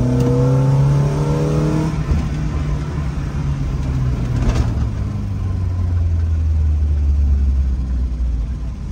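A Volkswagen Golf project car pulls hard in second gear, the engine note rising then falling steadily as it accelerates past, loud and close with no one talking.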